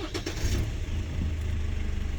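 A GWM Cannon pickup cranks and fires up, a short starter whir settling into a steady low engine idle, close and fairly loud with no talking over it.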